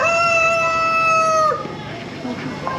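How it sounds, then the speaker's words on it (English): Caged roosters and chickens at a market; a rooster crows loudly and close for about a second and a half, followed by quieter clucks and scattered bird calls over background murmur. "Here's more birds in cages. Roosters, chickens."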